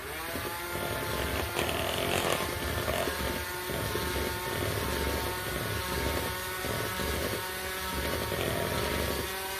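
An electric mixer whirs steadily while mixing pancake batter, a loud, continuous motor hum with a buzzing whine that stays even throughout, with no talk.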